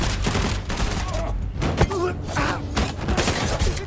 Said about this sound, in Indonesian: Mendengar suara tembakan tersebut